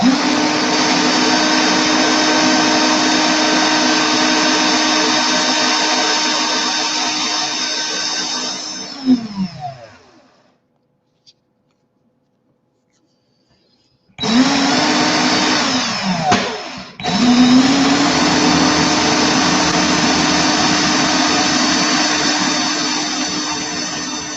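A coil is sanded with sandpaper on a spinning drill, giving a loud, steady whirring grind that winds down and stops for a few seconds of silence, then starts up again and runs steadily to the end.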